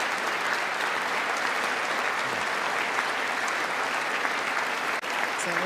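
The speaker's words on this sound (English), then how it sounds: "Pocahontas standing, clapping." A large audience claps through a State of the Union address, a continuous wash of many hands applauding at a steady, even level, heard from a little distance with a faint voice underneath.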